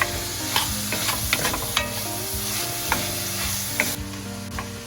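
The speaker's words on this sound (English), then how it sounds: "So we'll just saute these until they're tender, and then we'll add the next ingredient" Vegetables seasoned with salt and pepper sizzle steadily in a soup pot for tortellini and veg soup, with repeated scraping stirs of a spoon against the pot over the continuous frying hiss, close and alone.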